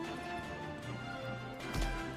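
Armored war horses gallop in the fantasy strategy game Eversiege, a brief run of rapid hoofbeats and clattering over a low background rumble, with a heavier thud near the end and no speech.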